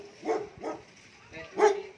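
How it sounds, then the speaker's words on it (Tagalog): A pet dog called out on a small lettuce nursery farm in Mangatarem, Pangasinan gives four short barks or yips at an irregular pace, moderately close, with no speech over them. "andito yung aming aso na si George."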